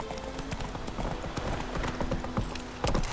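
Horse hooves clip-clop at a steady trot in The Witcher 3 video game, a rhythmic clear series of hoof strikes with a faint tonal hum beneath.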